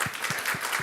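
A small audience clapping after a talk on Antarctic permafrost degassing, a few sparse, evenly spaced claps heard briefly in a quiet room.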